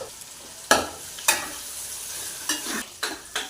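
A spoon scrapes and stirs through chicken chilli gravy in a pan, in a few distinct close strokes over a soft sizzle, with no talking.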